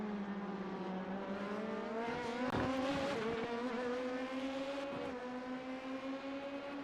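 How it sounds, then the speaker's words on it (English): Race cars in a Le Mans endurance sim racing game roar steadily at full throttle, their engine notes rising and shifting as several cars battle closely in the draft, with a brief sharp burst midway and no talking. "I love the sound of these race cars"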